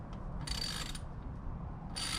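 Ratchet wrench torquing brake caliper bolts on a Toyota Supra, a rapid run of clicking pawl ticks in two short bursts over a steady low shop hum, close and clear with no talking.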